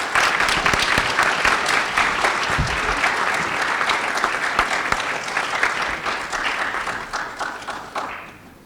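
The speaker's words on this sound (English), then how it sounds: "Let's give a big round of applause for these students." An audience at a board of education meeting applauds students with loud, dense, sustained clapping that fills the room and then tapers off at the end.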